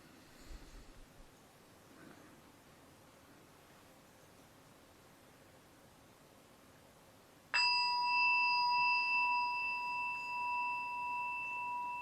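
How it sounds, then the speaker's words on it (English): A meditation bell or gong marking a sitting meditation session rings once after a long quiet stretch, a clear sustained tone that rings on and slowly decays over several seconds. "the sound of a bell at 10-minute intervals"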